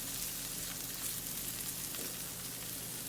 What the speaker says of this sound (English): We're going to want to saute this.